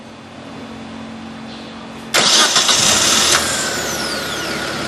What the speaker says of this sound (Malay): sekarang ni kita dah nampak yang kereta ni dah boleh start